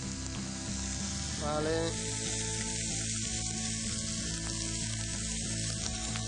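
Vegetables, some sliced thin, sizzle as they roast ahead of a grilled pork-fat jus; a steady close frying hiss runs throughout with light clatter, and a brief voice speaks under background music.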